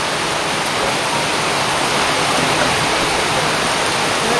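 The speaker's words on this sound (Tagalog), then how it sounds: "Ayan, medyo po lumakas yung ulan" Heavy rain pours down steadily as dense, unbroken hiss that is loud and close. No voices or other sounds break through it.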